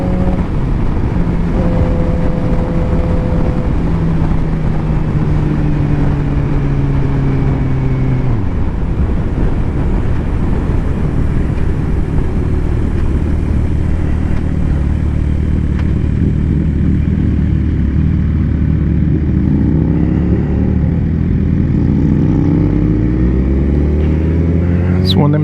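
A 2006 Suzuki GSX-R 750 motorcycle fitted with a Two Brothers exhaust, engine rising and falling through revs then passing with a shifting whine, close and loud while someone talks over it.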